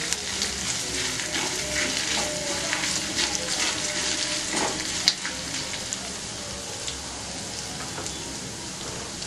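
Chopped ginger and poppy seeds fry in hot tempering oil in a pan with a steady, close, crackling sizzle that holds level throughout, with a few sharper pops.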